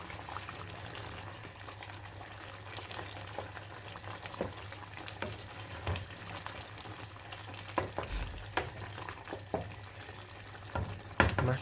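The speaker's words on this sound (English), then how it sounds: "the water's boiling up more, and the chicken is literally going to be very delicate now" Restaurant-style chicken tandoori curry bubbling in a pot: a constant low, busy simmer with soft popping and occasional stirring knocks against the pot.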